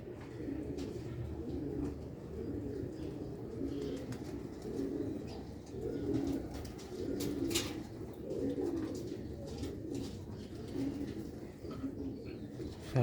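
Sialkoti old-breed pigeons coo in soft, repeated low murmurs that run steadily throughout, with occasional faint chirps over the top.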